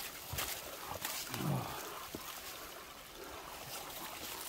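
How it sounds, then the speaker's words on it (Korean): A mountain creek flows steadily near a mountain hiking trail, a soft continuous trickle and rush of water that is fairly faint and heard alone. "개울이 이렇구나."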